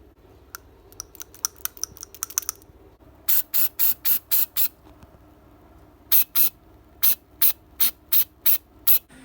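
Degreaser sprayed onto an engine manifold: a few quick light clicks come first, then two runs of short, sharp, evenly spaced spray bursts, about seven or eight in each, close and distinct.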